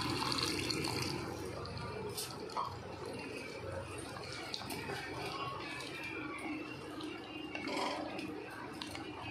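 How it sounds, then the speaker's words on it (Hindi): Half a cup of water pours into a village-style mutton handi cooking pot, a steady splashing and trickling stream that runs continuously at close range. "अब इसमें 1/2 कप पानी दे देते हैं,"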